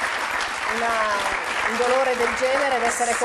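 Applause from a studio audience on an Italian talk show, a steady broadband clapping wash running throughout beneath a voice speaking over it.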